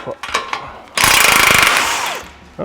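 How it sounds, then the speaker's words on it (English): A ratcheting wrench with a 21 millimeter socket working a tie rod loose from the steering knuckle on a 2025 Ford, a few light clicks followed by a loud, close, rapid buzzing burst that winds down, with brief voice. "here we're using a 21 millimeter socket"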